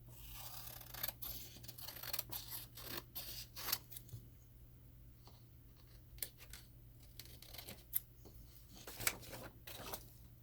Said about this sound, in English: I'm going to trim around the edges.